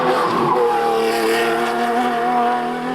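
The Shrike, a 3.8-litre hillclimb race car at Mount Panorama, Bathurst, screams loudly with a rising, whining engine note and a hint of tyre squeal, sustained and close, with no talking.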